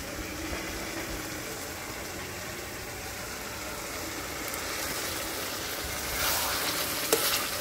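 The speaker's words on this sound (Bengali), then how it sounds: "আজকে কিন্তু মাশরুমের মধ্যে দেখো আমি মটরশুঁটি দিয়ে রান্না করছি" Mushrooms with peas and small whole potatoes fry steadily in a pan, a continuous close sizzle with faint stirring scrapes and a brief clatter near the end, no one talking.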